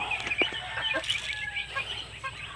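A hen clucks several times in short, close bursts, with soft scratchy farmyard noise between the calls.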